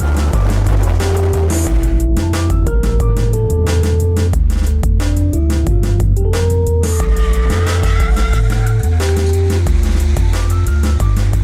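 Two 2008 Subaru Impreza WRX STI race cars, one with added power, the other with suspension upgrades, roar and rev continuously on track, with sharp gear-shift and downshift changes as they brake and accelerate through turns, plus occasional tire squeal.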